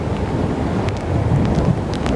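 Constant rushing wind buffets the microphone, with a rumbling, noisy wash of weather that sounds like rain outdoors.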